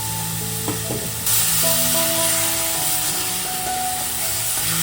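Steady sizzling of chicken frying in a pan with occasional stirring scrapes, loud and close, growing a bit stronger partway through.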